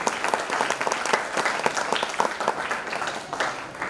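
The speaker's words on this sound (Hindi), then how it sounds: "मैं एक बार उनके लिए आपकी जोरदार तालियां" Sustained audience applause for student managers at a valedictory session of a Republic Day festival, a crowd of hands clapping steadily at moderate volume from some distance.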